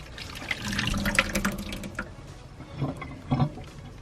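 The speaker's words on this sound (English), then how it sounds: "rinse it with some cold water so that way some of the starch can come out" Cold tap water runs steadily and splashes into a strainer holding boba pearls for several seconds, close up, with no talking.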